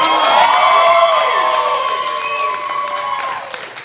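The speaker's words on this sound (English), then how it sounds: "By applause, do you think this class should graduate?" A comedy training show audience shouts and cheers with whoops and raised voices, while some applause runs underneath, loud at first and gradually tapering off.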